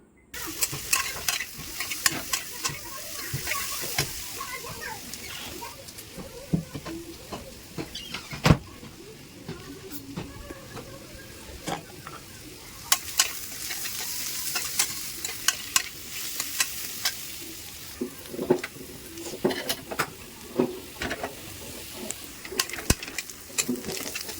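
Onions frying for biryani sizzle continuously and close by, with frequent scraping and clattering stir strokes against the pan throughout, and no speech.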